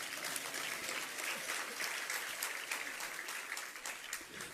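An audience at a religious discourse gathering applauds in a steady, dense wash of clapping that lasts throughout, with no individual claps standing out.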